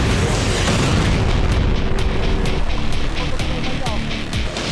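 Huge explosion as drones strike a Russian navy ship: a loud, sustained roar of blast and rumble filling the whole moment, dense and continuous with sharp cracks near the end.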